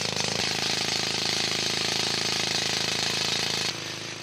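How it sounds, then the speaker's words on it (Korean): A drill bores holes into marble at a marble quarry in Makrana, a loud, steady rapid hammering rattle that runs without pause, then drops slightly in loudness near the end. "지층에서 떼어낼 대리석의 윗부분과 아랫부분을 90도 각도로 뚫어서 와이어를 넣을 구멍을 만드는 작업이 진행됐다"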